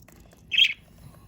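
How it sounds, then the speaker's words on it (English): A pet budgie gives one short, bright squawking chirp close by, rising briefly above quiet room background. "Oh, you baby bird."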